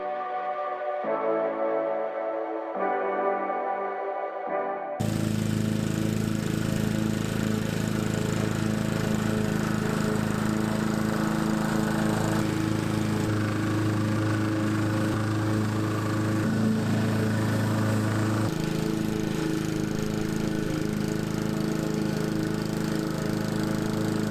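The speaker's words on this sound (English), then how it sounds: "Mowing's not going so well today because this grass is just so super wet." A lawn mower drones steadily and loudly while cutting very wet grass, its engine note wavering slightly as it works through the soggy lawn; no talking.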